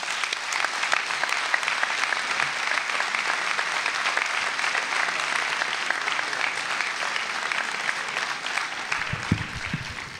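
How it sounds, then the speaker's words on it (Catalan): Audience at a civic gathering in Martorell applauds the town's mayor, a dense, steady sustained applause filling the whole stretch at close range, thinning slightly right at the end. "Un fort aplaudiment."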